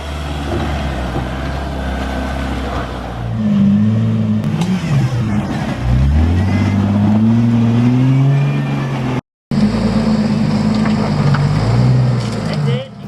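4x4 short-wheelbase vehicle climbing a steep off-road hill while winching, its engine droning and revving with rising and falling pitch, loud and close, with voices shouting over it.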